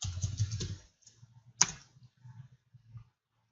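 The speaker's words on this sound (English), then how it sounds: "so I'm typing localhost" Computer keys are tapped in a short burst, then a few scattered, quieter keystrokes follow after a sharp click, heard close and alone in a quiet room.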